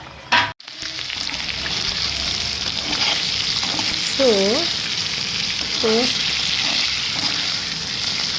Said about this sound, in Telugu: పన్నీర్ని ఫ్రై చేస్తున్నా